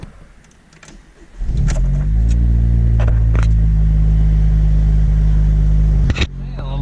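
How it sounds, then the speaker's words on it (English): A 10th-generation Honda Civic with a PRL Cobra race intake and KTuner tune cranks and fires up, settling into a loud, steady idle that runs for several seconds before a brief dip, with a few clicks and light background noise. "let's go ahead and turn the car on and see."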